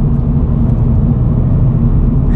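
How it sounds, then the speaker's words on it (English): Road noise fills the cabin of a Toyota GR86 sports car on UK roads as a loud, steady low rumble and tyre drone with no voices over it. "Certainly you get a lot more road noise"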